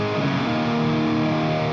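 A dry, high-gain distorted electric guitar tone from a Line 6 Helix LT modeler rings out as a single sustained chord, loud and dense with no reverb.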